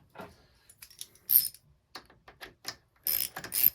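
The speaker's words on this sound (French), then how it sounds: "On vient tout simplement visser." A bolt being screwed into a Can-Am Ryker helmet lock gives a close, uneven series of small metallic clicks and ratcheting ticks, with short pauses between bursts and no voices.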